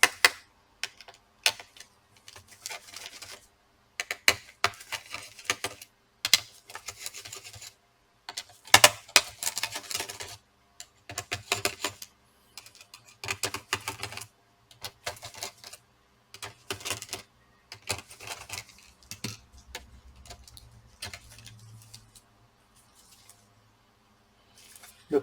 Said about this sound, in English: Now we have to remove the screws for the CPU and the GPU.